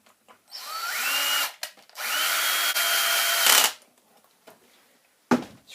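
A power drill drives a screw into an RC car skid plate in two sustained whirring bursts, rising in pitch as it spins up, with a short click at the end; close and fairly loud, no talking.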